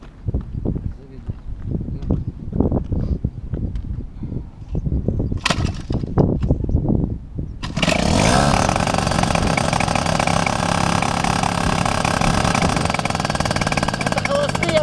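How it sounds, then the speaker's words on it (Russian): Montanari 130 paramotor engine being started and left idling without throttle, with brief clatter and knocking first, then a sudden, steady, loud buzzing drone that runs to the end. "Вот это холостые обороты. Без газа."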